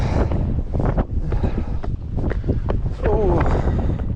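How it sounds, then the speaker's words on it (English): Strong wind buffets the microphone on the rocky summit of Mt Monadnock, a steady roaring rush that drowns most other sound, with people talking and exclaiming over it throughout. "That's some intense wind."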